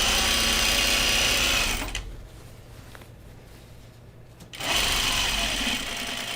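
A sewing machine stitching kid's pajama bottoms runs in a loud, steady mechanical whir, stops briefly for a couple of seconds, then starts up again close by.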